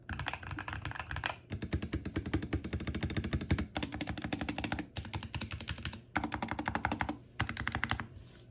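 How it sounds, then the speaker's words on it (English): Fast, steady typing on a mechanical keyboard sitting directly on a bare wooden desk with the desk mat removed, close and clear with dense clacking keystrokes and a few brief pauses. "My keyboard is already on a wood desk,"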